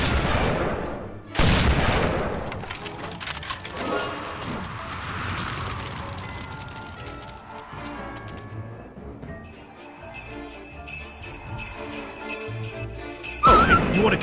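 Video game gunfire in a Christmas-themed shooting scene, with scattered loud shots, crashes and bursts spread over a busy mixed soundtrack, ending in a sharp loud blast.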